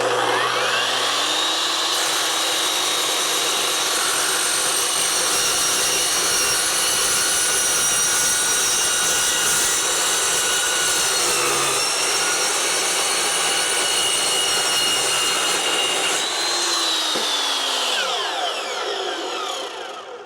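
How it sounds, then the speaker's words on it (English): An Evolution EVO Max cold cut saw slices through thick-walled 3-inch square steel tubing, a loud steady high-pitched whine that spools up, grinds through the cut for about fifteen seconds, then winds down as the blade is braked. "See how quick we can cut some thicker wall 3-inch square tubing."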